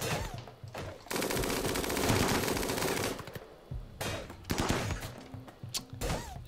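Video game gunfire: a sustained two-second burst of rapid automatic fire, followed by scattered shorter volleys and single shots, loud and close with no talking.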